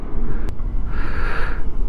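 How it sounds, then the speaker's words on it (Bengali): Loud, steady wind roar buffets the microphone of a moving motorcycle on a highway, a constant rushing whoosh with a brief sharp click early on. "হাওয়া দিচ্ছে আর শোঁ শোঁ করে আওয়াজ হচ্ছে।"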